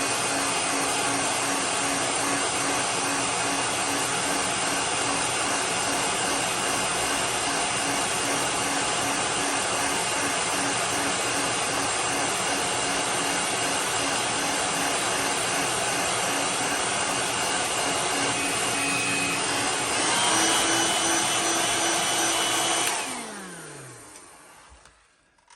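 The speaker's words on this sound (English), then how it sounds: "take the heat gun and dry this off with a blow dryer" Heat gun blowing steadily to dry epoxy on a custom-painted fishing lure, a loud continuous broadband roar that holds for about twenty seconds, shifts pitch briefly, then winds down and cuts off.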